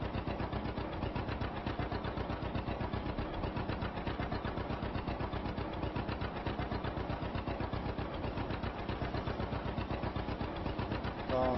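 A John Deere tractor's single-cylinder diesel engine in Farming Simulator 25 pops along in a steady, rapid, even rhythm, loud and continuous throughout with no talking.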